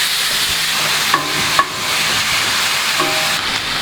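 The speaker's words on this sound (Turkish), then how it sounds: "Kıymamızı yaklaşık 3-4 dakikadır bu şekilde kavuruyoruz" Half a kilo of minced meat sizzles steadily in a hot cast-iron pan, a loud continuous fry punctuated by a few metallic scrapes and taps as a utensil stirs it.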